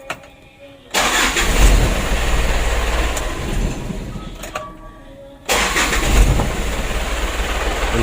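A 120 PS diesel engine with a rough, misfiring condition cranks and starts twice, each time bursting into a loud, close, throbbing idle after a brief pause.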